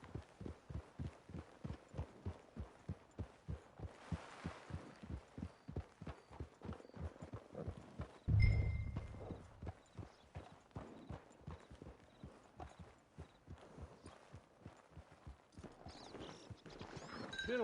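Horse hooves clip-clopping at a steady walk in the Red Dead Redemption 2 game, a continuous even rhythm of close hoofbeats over a low hum, with a brief louder thump midway.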